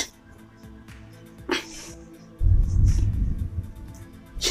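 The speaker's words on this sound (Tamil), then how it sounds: "இன்றைக்கி போகிற டாபிக் வந்து தும்மல்" A single sharp human sneeze, preceded by a short intake of breath and followed by a burst of noisy breath, close and fairly loud.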